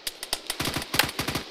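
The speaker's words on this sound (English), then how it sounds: "There's infantry small arms fire to the north of 1-1's position." Infantry small arms fire in ARMA 3, a rapid run of sharp cracking shots in quick bursts, fairly faint and distant, with no voices over it.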